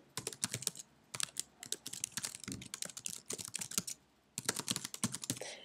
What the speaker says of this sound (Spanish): Escribes tu email